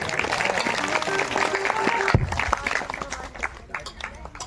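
An audience claps along during a devotional bhajan at a Shrimad Bhagavat Katha gathering, with harmonium-like melody and voices early on, then a burst of dense, uneven clapping that continues over the music.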